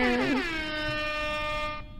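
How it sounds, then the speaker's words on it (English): A single loud air horn blast with a slight pitch sweep at the start, then a steady rich tone held for nearly two seconds before cutting off abruptly. "I could do an air horn."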